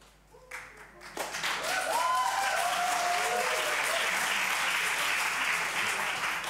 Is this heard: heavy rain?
no